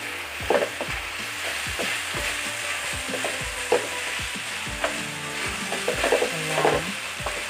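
Eggplant fries in plenty of hot cooking oil with a loud, continuous sizzle and crackle, while a utensil stirs and taps the pan now and then, close up with no voices.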